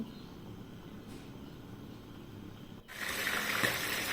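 Water pours steadily into a pot of cooking beef, a broad rushing splash that begins abruptly partway through after a quiet stretch, fairly close and loud.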